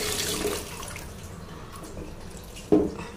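Water poured from a container onto garden plants that are soaking it up quickly, a soft, close splash that opens the moment, then quieter trickling and a sharper splash near the end.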